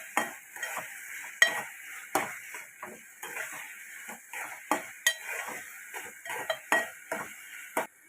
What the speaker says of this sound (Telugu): అల్లం, వెల్లుల్లి, జీలకర్ర పేస్ట్ అంతా కలిసి ఇలా మిక్స్ చేసుకొని